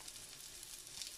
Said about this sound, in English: We've just got some chicken that's lightly pan frying with a tiny bit of oil.